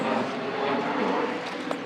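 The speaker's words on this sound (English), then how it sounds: "That's fucking airplanes." Airplanes pass overhead on a Portland, Oregon street, a steady broad engine roar filling the short stretch at an even, moderate level with no talk over it.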